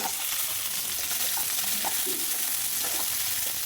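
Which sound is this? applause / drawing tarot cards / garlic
garlic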